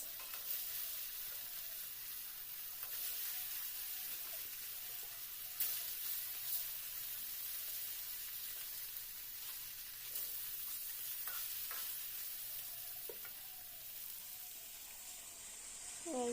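Rohu fish pieces fry in hot oil in a pan with a steady, quiet sizzle and crackle. Occasional sharper pops and clinks come as the pieces are moved, and the sound continues without interruption.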